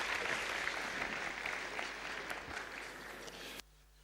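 Audience applause for the final speaker at a conference event in Abuja, a dense, steady round of clapping that fades slightly before cutting off abruptly near the end.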